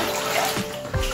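Dried hibiscus leaves are washed in water, giving a brief close slosh and splash with a small splatter near the end.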